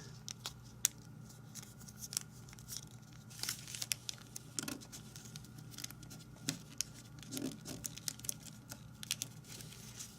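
Paper folded into an origami Pokémon ball makes faint, close crinkles, soft creasing snaps and light rustles in irregular bursts over a quiet background.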